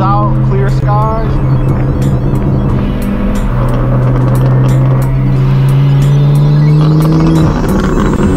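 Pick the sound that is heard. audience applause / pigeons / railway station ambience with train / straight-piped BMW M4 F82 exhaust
straight-piped BMW M4 F82 exhaust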